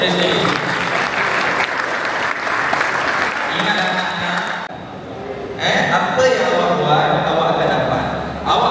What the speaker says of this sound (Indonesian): Tepuk tangan sini.